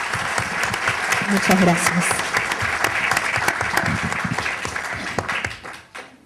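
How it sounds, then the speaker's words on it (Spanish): An audience at an evening panel event on women's achievements bursts into loud, sustained applause that fades out at the end. A voice speaks briefly over the clapping. "Aplausos, por favor."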